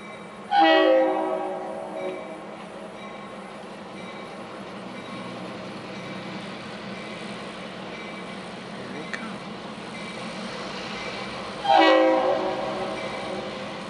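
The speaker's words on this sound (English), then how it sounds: "It's a green train." A train rumbles steadily past in Delanson, with two loud horn blasts, one at the start and another near the end, over continuous rolling noise.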